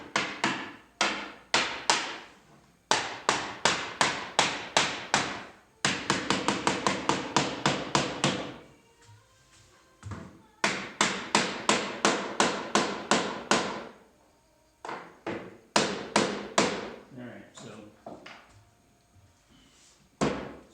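A wooden top piece is hammered onto a frame-and-panel hall table in the Greene & Greene style, with rapid bursts of loud, close knocks in quick series, separated by short pauses.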